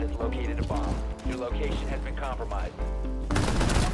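AK-47 automatic fire in Rainbow Six Siege, a rapid, steady rattle of close shots with mechanical clatter that continues through the stretch, partly under a player talking.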